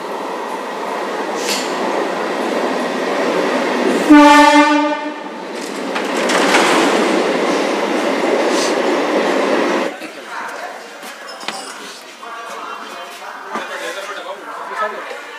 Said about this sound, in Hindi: सबसे लास्ट में ट्रेन देखो सुनाई दिया हाँ, हाँ मनीष का ट्रेन आ गया